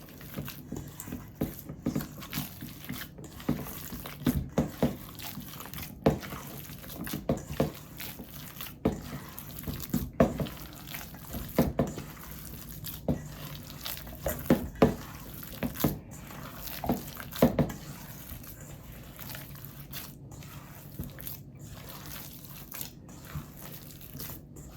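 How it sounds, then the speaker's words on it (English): Meatloaf mixture is squished and kneaded by hand, making soft, wet squelches and sticky slaps in an irregular rhythm close by, continuing with short pauses. "I'm going to mix more. Give it another mix."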